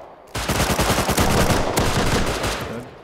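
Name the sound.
submachine gun fire in the video game Rust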